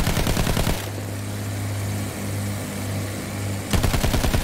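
Automatico submachine gun fire in Battlefield 1 crackles in rapid, loud bursts at the start and end, with a low rumbling engine drone and distant combat noise filling the gap between.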